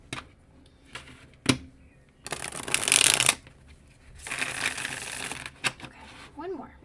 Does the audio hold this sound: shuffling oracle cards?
yes